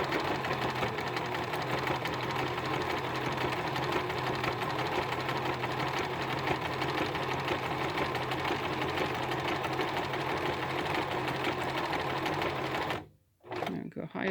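A White model 1888 sewing machine runs in a steady, continuous stitching whir close by, holding an even rhythm before stopping abruptly near the end, with speech over it.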